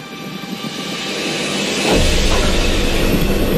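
A loud, steady rumble of a coaster train on its track, deepening and growing heavier partway through as it picks up speed.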